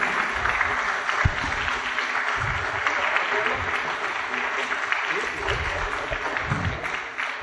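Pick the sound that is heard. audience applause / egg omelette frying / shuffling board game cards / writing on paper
audience applause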